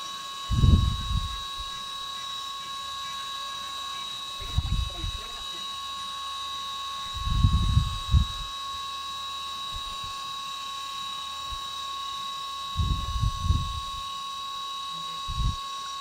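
A CNC mill 3D-machining an AR15 gas block with an end mill hums and whines steadily, broken by several short, louder low rumbles as the tool moves back and forth; a voice talks intermittently.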